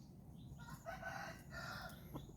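A Burmese-type gamecock rooster crows in a yard among fighting-cock breeding stock, one drawn-out call at moderate distance over steady background noise.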